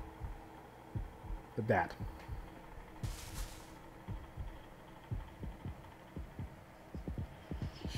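A steady, slightly irregular heartbeat thumps throughout the horror game Yomawari: Night Alone, low and muffled under a hum, while a person speaks briefly over it.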